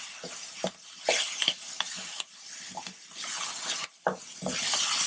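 Utensil stirring in a hot pan of salted venison ribs with pork, crackling and sizzling steadily with scraping strokes and a few clinks, close and moderately loud, no talk.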